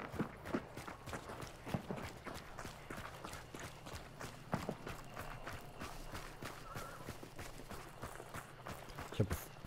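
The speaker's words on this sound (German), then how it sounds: "Ich hab Pferd gehört" Horse hooves clopping in the video game Hunt: Showdown in an irregular rhythm with sharp thuds, moderately close, over a faint background.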